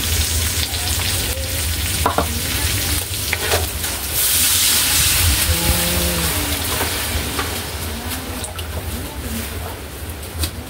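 Ground meat sautéing in a pan, a loud close sizzle with stirring scrapes, while a voice speaks briefly over it midway.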